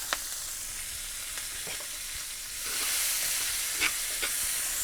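Onion and garlic fry in oil for chicken adobo, giving a steady close sizzle with occasional stirring scrapes that grows a little louder partway through.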